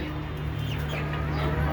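Native Bangladeshi chickens cluck and chirp softly in the background of an indoor poultry room over a steady low electrical hum.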